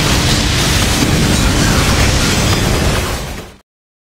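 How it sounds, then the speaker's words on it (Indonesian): A large, destructive explosion from a dangerous round rips into a sustained, loud, roaring blast that fills the frame for over three seconds before cutting off abruptly into silence. "peluru tersebut menciptakan ledakan yang besar dan menghancurkan sekitar"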